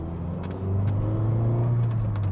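A Mazda MX-5 sports car with a 1.5 litre SkyActiv engine pulls hard under full throttle, its steady, loud engine drone building as it accelerates, with no voices.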